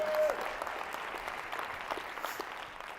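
Audience at a life insurance keynote applauding, a dense, steady patter of many hands clapping that fades slightly toward the end.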